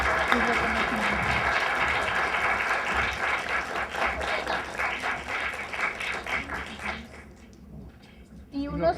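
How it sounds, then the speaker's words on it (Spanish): Audience at a Latin American conference on reparations giving a strong round of applause, a full, rhythmic burst of clapping that gradually thins out and fades, ending with a voice starting to speak. "Les agradecemos mucho, un fuerte aplauso y les doy un reconocimiento."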